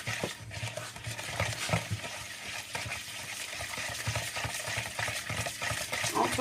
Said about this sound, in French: Puis on va remuer.